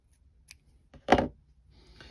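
Scissors trimming yarn ends on a knitted infinity scarf, a single crisp snip preceded by faint handling sounds.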